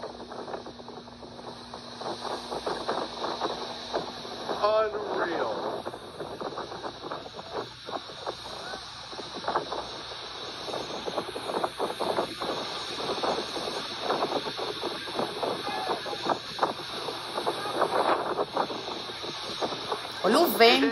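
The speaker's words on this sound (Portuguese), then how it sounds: "Olha o vento." Strong hurricane wind at sea roars with a continuous broad hiss over a small refugee boat fleeing Cuba, steady and loud throughout, with sharp crackling buffets and people talking now and then.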